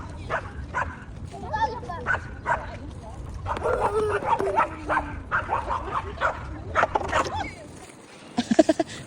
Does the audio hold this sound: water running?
no